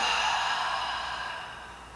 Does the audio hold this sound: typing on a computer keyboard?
no